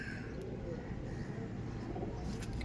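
Rampuri pigeons coo softly in a loft, their low murmuring mixed into steady room noise while a person talks nearby.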